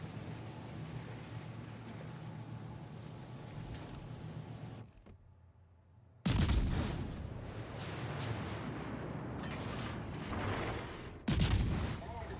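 Battleship guns fire in World of Warships Legends, with loud booming salvos that burst in around the middle and again near the end over a continuous rumbling naval battle bed.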